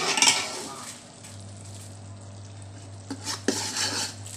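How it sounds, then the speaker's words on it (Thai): Sugar simmering and caramelizing in a pot for a pork leg stew, a low bubbling hum under stirring scrapes and clinks of a utensil against the pot, close by. "เราก็จะเคี่ยวน้ำตาล ไปเรื่อยๆนะคะทุกคน"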